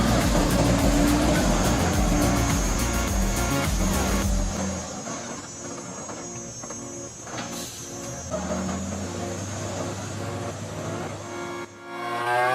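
Heavy log truck loaded with logs grinding over rough forest ground, its engine droning loud and close with strained low rumble throughout, easing slightly midway before a brief drop near the end.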